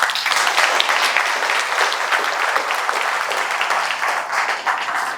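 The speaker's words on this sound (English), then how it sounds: "Now that deserves a round of applause." Loud, close audience applause at a keynote dinner event at Tampa River Center, a dense crowd of clapping hands that holds strong for about five seconds and dips slightly toward the end, with no voices.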